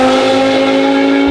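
A V10-swapped BMW E46 M3 with an X-pipe exhaust holds a loud, steady, raspy engine drone close by, a sustained high-pitched tone with no voices over it.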